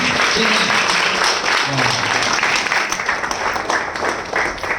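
Audience applause at a company business event in Rourkela, a dense, sustained wash of many hands clapping that holds steady throughout, fairly loud and close, with a voice speaking faintly underneath.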